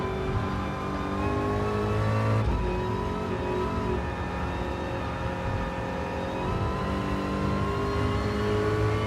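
Race car engine in a racing video game, revving high with a clear gear shift partway through, then climbing again in a steady whine; loud, close and continuous with no talking.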